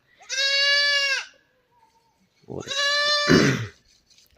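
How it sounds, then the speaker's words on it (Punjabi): Two loud, drawn-out goat bleats close by, separated by a short pause, the second rougher and strained toward the end. "ਇਹਨੇ ਬੱਕਰੀਆਂ ਦੇਖ ਲਈਆਂ"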